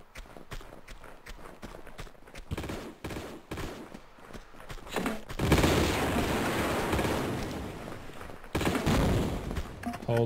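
Grenade launcher fire in the video game Tomb Raider 2 Remastered, with heavy blasts and bursts of shots mixed with running footsteps, building to a loud, sustained barrage in the second half.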